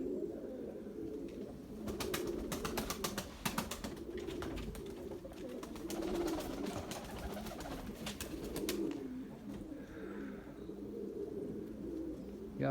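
Young white pigeons coo softly and continuously while bursts of fluttering wingbeats come and go, the flapping strongest for a few seconds in the middle.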